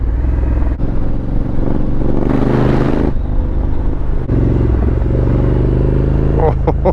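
A Honda Africa Twin motorcycle rides along empty countryside roads, its engine a loud, constant rumble with wind noise and brief shifts in pitch, close and continuous throughout.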